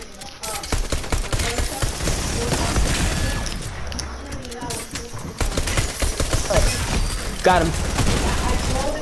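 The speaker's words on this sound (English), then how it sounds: "Try the new shotgun out." Shotgun blasts from a Fortnite match ring out amid dense gameplay noise, scattered sharp bursts across the clip, with players talking over the action.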